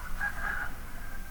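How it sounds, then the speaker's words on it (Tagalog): Rooster crowing at dawn near a bridge campsite, a single drawn-out crow standing out clearly over a low steady rumble of passing traffic. "At rinig ko na rin ang tulaok ng mga manok."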